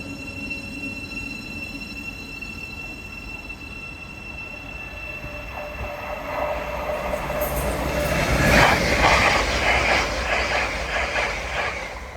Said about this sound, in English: passing through now is a whole train's Paragon en route from London King's Cross